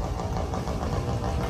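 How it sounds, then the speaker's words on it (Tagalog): A Honda Genio scooter engine runs nearby with a steady, rough mid-pitched hum and no break over the short stretch. "O yan yung motor ni Mrs., no, yung kanyang Honda Genio."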